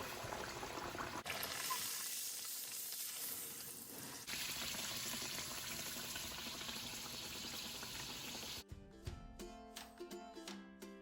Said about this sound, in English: Now my mom is going to be deep frying the puri